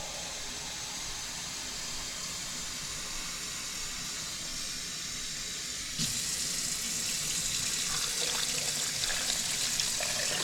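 Steady rushing water runs continuously, growing louder and fuller partway through as warm water pours into a blender holding coconut pieces, with no voices.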